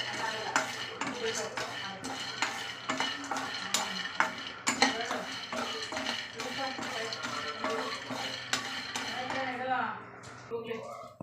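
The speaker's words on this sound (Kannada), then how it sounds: "ಫಸ್ಟ್ ಶೇಂಗಾನ ಹುರ್ಕೊಳ್ಳೋಣ. ಚೆನ್ನಾಗಿ ಮೀಡಿಯಮ್ ಫ್ಲೇಮಲ್ಲಿ ಹುರ್ಕೋಬೇಕು ನೀವು." Peanuts roasting in a metal pan over a medium flame, with dense, continuous scraping and rattling from stirring, frequent sharp clinks of a utensil against the pan and faint sizzling, close and fairly loud throughout, fading near the end.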